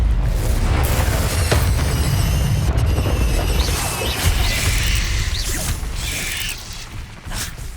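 Explosive Confringo spell blasts in Hogwarts Legacy combat, a dense, loud run of booms, crashes and mechanical clatter filling nearly eight seconds, easing slightly toward the end.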